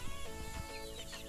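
Free-range native chickens cluck in short, overlapping bursts close by on a poultry farm, a busy flock murmuring without pause.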